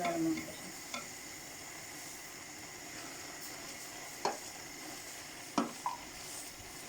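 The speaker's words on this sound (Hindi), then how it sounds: "अब मैं ये चीनी डाल रही हूँ। ये 1 किलो चीनी" Sugar, about a kilo, being added to carrot halwa in a pot, with a steady low sizzle and a few soft scraping stirs of a spoon against the pan, faint and without talk.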